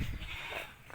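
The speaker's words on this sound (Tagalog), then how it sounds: "ililipat ko na yung 4 na anak ng kambing" A young goat, one of four kids on a small Philippine vegetable farm, bleats loudly and close by in a single short, wavering cry with no talking.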